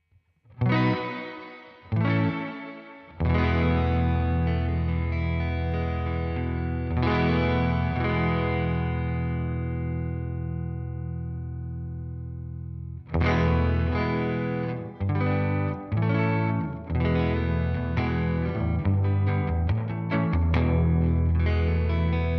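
An electric guitar played through a Strymon blueSky reverb pedal with its high damp setting adjusted, sustained chords ringing into a long, washy reverb tail, then a fresh run of strummed chords.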